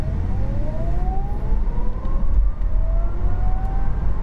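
An Audi e-tron GT electric car pulls away hard from a standstill, its motor whine climbing steadily in pitch over road and wind rumble, loud and close from inside the cabin.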